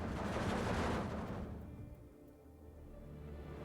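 Distant battlefield gunfire and artillery in Steel Division 2, a rumbling wash of overlapping shots that fades after a second or so into a low, steady background.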